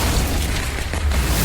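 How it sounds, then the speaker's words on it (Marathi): Firecrackers bursting in the distance, a dense, continuous low rumble of overlapping pops and booms that fills the whole moment without any talk. "फटाके वाजायला लागलेत"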